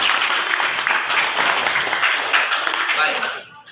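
Students in a classroom clap together in a steady burst of applause, close and lively, fading away in the last half second.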